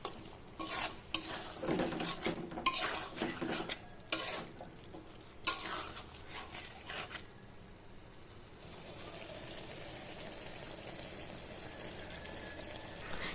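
Chicken chaap simmering with tomatoes in a pan, stirred with a steady scraping and soft sizzle, busy and uneven for the first half, then settling into a continuous low bubbling hiss.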